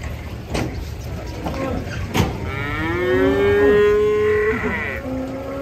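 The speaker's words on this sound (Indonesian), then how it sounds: "Oh yang sebelah sini ada muat sapi besar guys." A large cow on a truck gives a long, deep moo close by after some clattering thumps, with engine hum and movement noise in the background.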